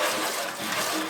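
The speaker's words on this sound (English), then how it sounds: "take your little guys and give them a good rinse off" Freshly wired cedar wreaths get a rinse under running water, a steady, fairly loud rushing splash that holds without a break from start to finish.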